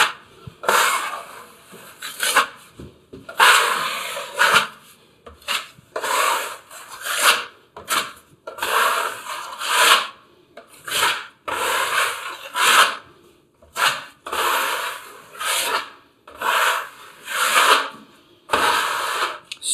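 Filler plaster being spread and drawn smooth on a wall with a blade, giving repeated rasping scrapes in a steady rhythm of strokes with short pauses between them, close and clear with no talking.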